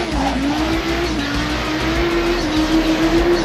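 A 1150-horsepower LMP race car in a racing video game drives on a dirt road against rally cars, its engine holding a loud, steady high drone as it pulls along.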